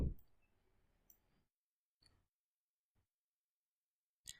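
A computer mouse gives a few faint, sharp clicks in a quiet room, spaced roughly a second apart after a brief opening thump.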